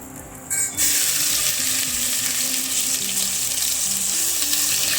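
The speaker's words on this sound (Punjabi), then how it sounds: "ਹੁਣ ਆਪਾਂ ਇਹਦੇ ਵਿੱਚ ਪਿਆਜ਼ ਪਾ ਦਾਂਗੇ ਗ੍ਰਾਈਂਡ ਕੀਤੇ ਹੋਏ" Ground onion paste hitting hot oil with cumin for aloo matar sabji: a sudden loud burst of sizzling after a short quiet start, then a dense, even frying hiss sustained close up, with no talking.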